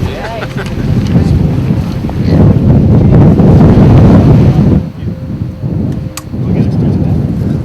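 Strong, gusting wind on a beach roars and buffets steadily across the whole stretch, dipping briefly before surging again, loud and close like open-air wind battering a microphone.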